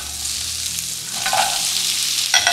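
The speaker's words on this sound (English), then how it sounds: "We're gonna saute for about 10 minutes" Onions, carrots and bok choy sautéing in melted coconut oil, a steady bright sizzle with stirring scrapes and a sharper hiss near the end, close and without talk.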